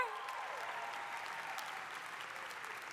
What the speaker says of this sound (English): Round of applause for class committee, you all.